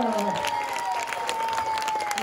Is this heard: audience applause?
yes